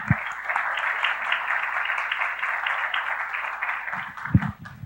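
A church congregation applauds during a Portuguese-language service, a sustained, even roar of many clapping hands that carries on for several seconds, with a few louder thumps near the end.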